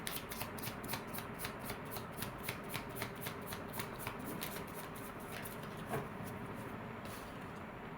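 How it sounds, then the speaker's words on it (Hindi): A deck of cards is shuffled for a reading, a rapid riffling patter repeating in quick bursts close up and fairly quiet over a low steady background hum. "My last shuffle."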